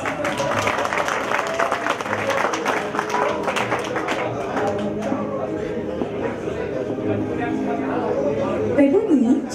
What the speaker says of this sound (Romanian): Nu-i așa, dragi invitați, că merită să-l aplaudați?